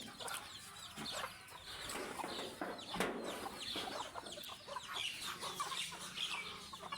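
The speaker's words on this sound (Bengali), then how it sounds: "এখন ঘরের মধ্যে একটা মুরগি দেখছি বাতে বসে আছে, এটা ডিম নিয়ে বসে আছে" Native deshi hens clucking inside a coop, with some birds sitting on eggs; a steady chorus of overlapping clucks and soft calls, fairly close, with a sharper squawk near the middle.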